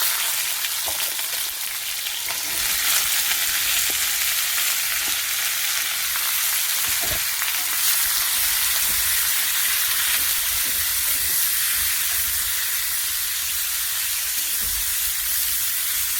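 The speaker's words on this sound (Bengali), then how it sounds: "পাতলা করে কেটে নিয়েছি, এটা একটু ভেজে নেব।" Thinly sliced flat beans fry lightly in a pan, giving a continuous close sizzle and hiss with occasional soft stirring scrapes, steady throughout with no talking.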